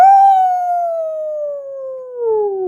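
A voice imitates a coyote howl with one loud, sustained, slowly falling wail that dips and rises slightly at the end.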